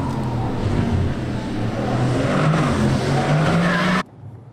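A Mercedes C63 AMG drifts through a chicane, its engine roaring close and loud while the tires squeal continuously for about four seconds before the sound cuts off abruptly.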